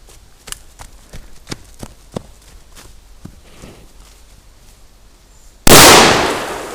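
A string of sharp firecracker pops crackles at irregular intervals, then a loud, dense burst of explosions erupts near the end and keeps roaring.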